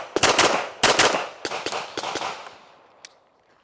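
A 9mm pistol fired fast, with sharp close shots coming roughly in pairs, each pair followed by a ringing decay outdoors, with no talking.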